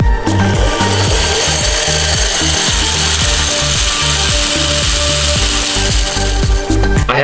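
Loosely mounted electric go-kart motor driving a chain at high speed, a loud continuous whir with rattling, ratchet-like clatter and a wobbly rhythmic knock from the unsecured mount throughout.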